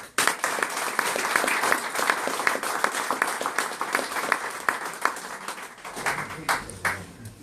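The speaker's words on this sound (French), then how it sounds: "qu'on puisse les applaudir" Audience applause at a French award ceremony where a Knight of the National Order of Merit medal is presented: a dense, sustained round of clapping from a large room that thins toward the end.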